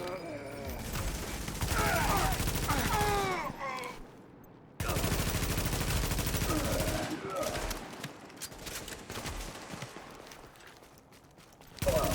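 Rapid video game gunfire bursts with fast fusillade and machine-gun rattles, loud and dense in two long stretches separated by a brief gap, with shouted voices mixed over the shooting.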